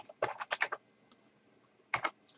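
Quick clicks of typing on a computer keyboard, one short burst of several keystrokes followed after a pause by a couple more, soft and close in a quiet room.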